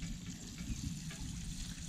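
Cooked pork brawn being lowered into cold water to cool, with a steady, moderately quiet sloshing and running-water wash that continues evenly throughout and carries no speech.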